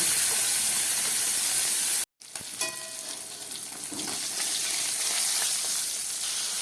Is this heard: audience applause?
no